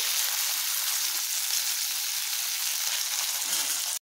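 Vegetables, beans among them, fry one batch at a time in a pan, giving a constant bright hissing sizzle, loud and even throughout until it cuts off abruptly at the end.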